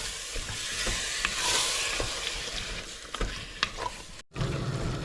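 Cooked beef and water are stirred together in a pressure cooker, a spoon scraping and sloshing through the pot in uneven strokes over a steady bubbling sizzle, close by with no talk.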